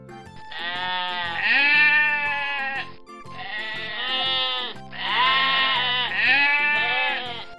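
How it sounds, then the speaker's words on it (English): A goat bleats loudly and close, three long wavering cries separated by brief pauses. "Goat."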